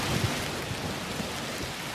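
Steady rain pours through a thunderstorm, with a dense wash of drops and low thunder rumbling beneath it throughout, loud and close, with no voices.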